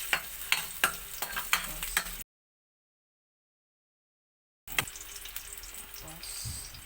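Ginger frying in a pan, with bright sizzling and repeated clattering stirs near the microphone, briefly cut to silence midway before the sizzle and stirring resume.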